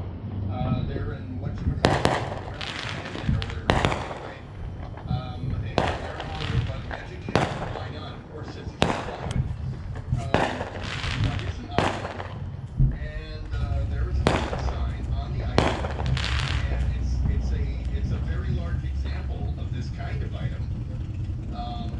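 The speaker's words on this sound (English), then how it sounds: "Who says Paradise Hills don't have illegal fireworks?" Illegal fireworks bang repeatedly in Paradise Hills in sharp, uneven bursts, some close and loud, over a low rumbling background, with voices talking now and then.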